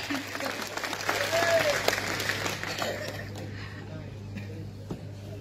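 A crowd at a district BNP political rally in Narail claps in a dense burst that fades over a few seconds, with a voice talking over the applause.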